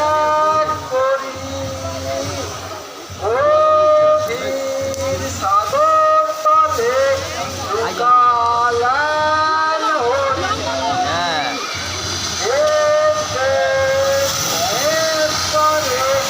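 A fireworks display produces loud hissing with repeated rising and falling whistles, close and continuous with few breaks.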